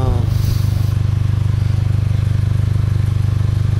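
A Honda Element engine idles through a Megan Racing N1 GT 2.5-inch custom exhaust, giving a steady, close, low burbling drone with an even pulse that holds throughout.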